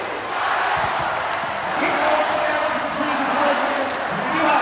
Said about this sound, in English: listen to the crowd chanting the Paul McGrath rap